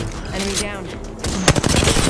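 Gunfire in the video game Apex Legends, a loud burst of rapid shots near the end over dense game noise, with a voice talking over it.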